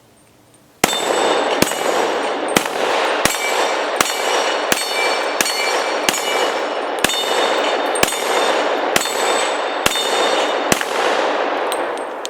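Pistol gunshots, about fourteen sharp loud reports fired at a steady rhythm roughly every 0.7 seconds, each a metallic crack with a ringing tail, close by and with no talk.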